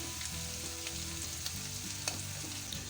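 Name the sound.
spices frying in pan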